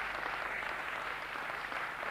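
A studio audience applauds the newly crowned king of comedy, a dense, even wash of clapping that holds steady at moderate volume throughout, with no voices over it.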